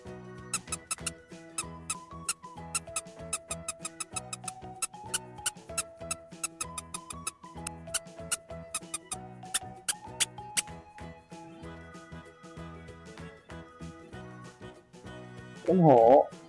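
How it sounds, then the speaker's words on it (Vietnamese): Mouse squeaking in a series of short, sharp, rapid high-pitched chirps over a light melodic tune from a children's animal-sounds lesson, ending with a louder burst. "Con chuột, con chuột."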